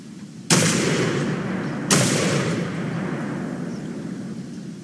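Two heavy shotgun blasts in a rabbit-hunting video game, the second about 1.4 seconds after the first, each a sharp loud crack with a long rumbling outdoor decay.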